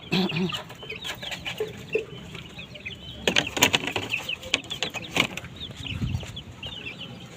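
Chickens cluck and chatter nearby in scattered bursts in the rain, with a few sharper calls and rustling movement, no talking heard.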